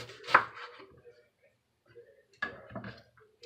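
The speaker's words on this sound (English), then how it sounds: "For the onion, just going to slice them." A knife cuts through onion on a cutting board in a quiet kitchen, with two separate bursts of close, crisp slicing strokes divided by a silent pause.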